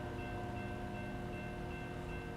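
Steady low rumble of a train rolling past in American Truck Simulator, a constant drone with faint tonal hum and no horn, heard alone without talk.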